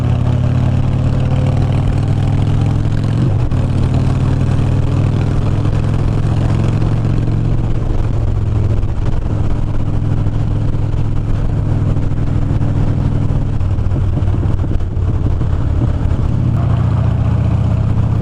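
A motorcycle with a staggered aftermarket exhaust rumbles steadily on a test ride, its engine note close and loud throughout, shifting slightly in pitch as the throttle rises and eases.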